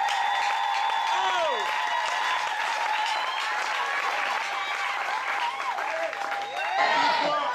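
A church congregation at Tabernacle Rehoboth in Libreville, Gabon, claps continuously and loudly, with shouts and whistled acclamations rising over the sustained applause and a brief swell near the end.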